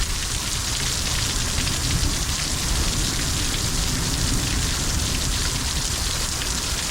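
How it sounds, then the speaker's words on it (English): Heavy thunderstorm rain in Needles, California pours down in a steady, dense, loud roar of drops on surfaces, with no thunder standing out and no voices. "This is the most rain we've had in quite a long time, guys."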